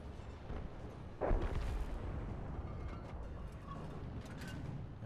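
A single artillery shot from a G.W. Panther self-propelled gun in World of Tanks, a sudden booming report followed by a lingering rumble and faint mechanical clicks of the reload.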